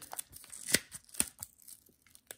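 Quick rips and crinkles of tape and plastic as a heavily taped mail package is torn open, a close, irregular burst of short tearing strokes with no talking.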